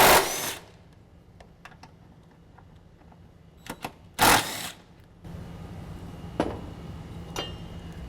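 Socket wrench on a 12 millimeter socket loosening rocker panel bolts while fitting a running board bracket kit: a few sharp bursts of ratcheting and metallic clicks separated by quieter gaps, close and fairly loud.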